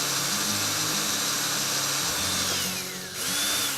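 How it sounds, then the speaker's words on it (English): A power drill runs continuously through a Matchbox 37C cattle truck, a loud close whine with a brief dip in pitch as it bites in, then it spins back up. "I'm going to drill straight through and then tap it"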